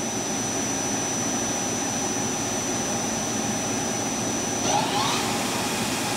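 A KURAKI KV-1000 three-axis vertical machining center spindle runs up toward its 4,000 RPM top speed: a steady, loud mechanical whine and rush with a high tone that shifts near the end.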